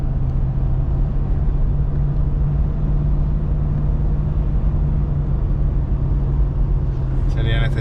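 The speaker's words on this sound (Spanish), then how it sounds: "vamos por la autovía, lo estamos probando" Jeep Grand Cherokee cruising on a highway, heard from inside the cabin as a loud, steady engine and road drone with a constant low hum throughout, under occasional talk.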